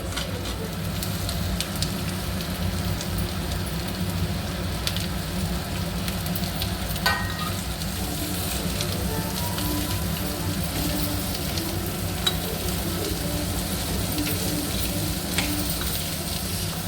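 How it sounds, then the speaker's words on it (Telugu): Spiny gourd (boda kakarakaya) fries and is stirred in a pan, giving a steady, moderate sizzle with occasional light scraping clicks from the stirring. "బోడకాకరకాయ వేసి మంచిగా కలుపుకోవాలి."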